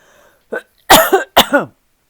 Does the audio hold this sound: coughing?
yes